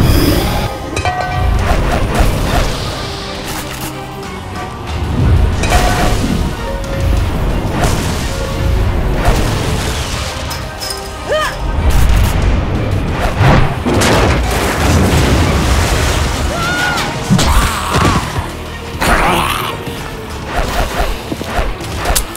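Heavy booming blasts from a tank firing in The Walking Dead arcade video game, repeated loud explosions with crashing debris over a continuous, dense action soundtrack.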